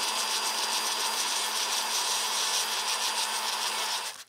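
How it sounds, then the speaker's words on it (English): A rotary tool sands the edges of a plastic floor mat, giving a steady high whirring grind that stays loud and even throughout and cuts off abruptly at the end, with no talking. "I do think I should soften these edges a little bit with the rotary tool."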